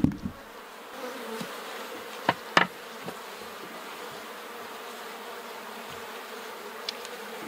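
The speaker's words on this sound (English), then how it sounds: "They have plenty of bees." Honey bees hum steadily around an open hive box, a continuous close buzz with a few louder passes of individual bees near the microphone and brief handling knocks.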